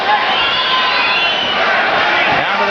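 A boxing arena crowd in Kingston roars and cheers steadily for Costello late in a round, a dense continuous wall of shouting and whooping from many voices.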